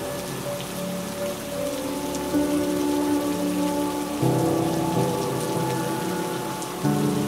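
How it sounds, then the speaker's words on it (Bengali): Heavy rain falls steadily at night by a cremation ground, a constant pattering hiss layered with sustained tonal music notes that shift pitch every few seconds. "বৃষ্টি মনে হচ্ছে এখনই থামবে না।"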